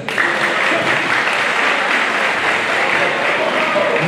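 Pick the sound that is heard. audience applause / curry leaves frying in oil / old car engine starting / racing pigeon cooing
audience applause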